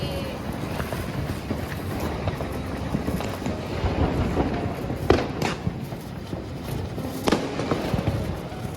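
Diwali firecrackers, including a spinning chakri ground spinner, hiss and crackle outdoors against wind, with two sharper pops standing out, while voices talk in the background.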